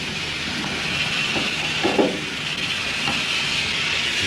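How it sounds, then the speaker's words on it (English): A steady, loud hiss from a leaking steam engine fills the whole stretch without a break, with faint metallic knocks rising briefly above it and no talk. "Bit of a steam leak somewhere."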